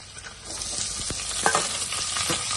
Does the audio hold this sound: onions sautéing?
yes